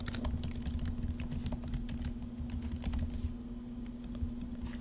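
Fingers tap out an email on a computer keyboard, a quick irregular run of soft clicks over a low steady hum, close and quiet, with no speech.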